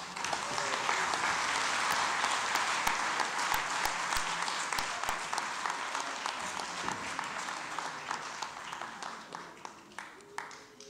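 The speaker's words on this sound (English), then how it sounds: "Another big round of applause for Professor Zodwa Mosa Matikane." Sustained applause from a lecture audience at a memorial lecture, dense and steady for several seconds before thinning slightly toward the end, with a few sharper individual claps standing out.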